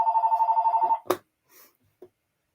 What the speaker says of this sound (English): we'll just let that phone ring behind us since no one's here to answer it